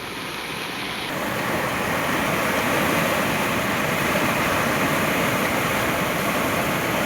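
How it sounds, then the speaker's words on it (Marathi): A flooded river in heavy monsoon spate roars near a weir, making a loud, continuous broadband rush that swells slightly after the first second and then holds steady with no voices. "नदीचा आवाज पण जबरदस्त येत आहे।"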